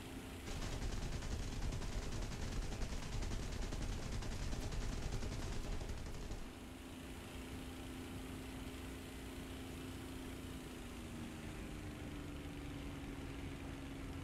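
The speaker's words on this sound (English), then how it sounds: "So I'm going to fly around, make noise, shoot my guns and see how that goes." Aircraft machine guns fire in War Thunder, a dense rapid rattle for about six seconds over a droning engine, then the guns stop and the loud engine hum carries on alone.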